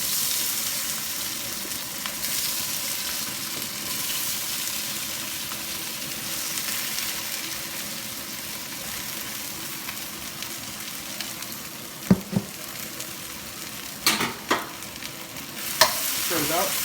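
Eggplant stir-fries in hot oil in a wok with a continuous loud sizzle and hiss, and a few sharp scraping stirs near the end.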